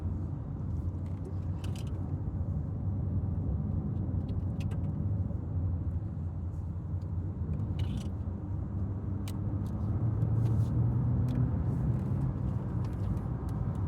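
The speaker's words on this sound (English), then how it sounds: "now let's try and overtake this car" Inside a 2025 Mitsubishi ASX on the road, a steady engine and tyre drone builds slightly as the car accelerates to overtake, with faint cabin rattles and no talk.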